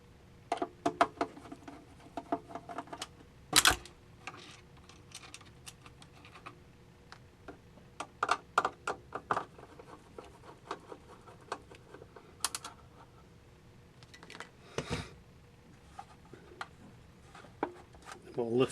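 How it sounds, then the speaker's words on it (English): Small screws being worked loose from the casing of a Sencore TC-109 tube tester, a run of faint scratchy clicks, ticks and taps spread through the clip with a few louder knocks, close by and without speech. "Remove these 4 screws."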